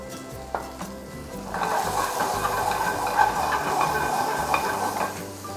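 Blanched baby corn goes into a hot pan for a barbecue-style pork rib dish, then steady stir-frying sizzle and scraping stir strokes run on, close and fairly loud, after a soft clink at the start.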